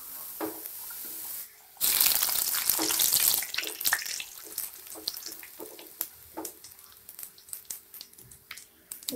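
Puris deep-fry in hot oil with a bright, crackling sizzle that bursts in loudly, then settles into scattered pops and bubbling close by.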